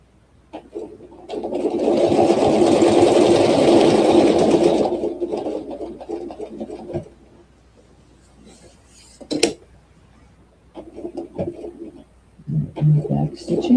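A domestic sewing machine runs steadily while quilting stitches along a fan-patterned quilt panel for about four seconds, loud and close, then stops; a few short bursts of handling and speech follow.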